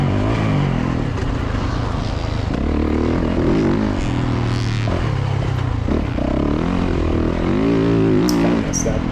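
A motocross dirt bike engine drones steadily on a track with bumps, rollers and big jumps, its pitch rising and falling as the throttle is worked through turns, loud and continuous for the whole stretch.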